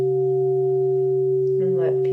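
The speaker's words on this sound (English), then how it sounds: "here's a sound of the bell," A sustained pure meditation bell tone hums steadily, with a voice beginning to speak faintly over it toward the end.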